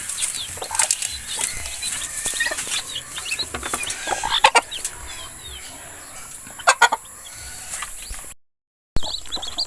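Hens with newly hatched chicks cluck in a farm setting, scattered soft clucks and sharp chick peeps close by, with a few louder bursts and brief wing flaps.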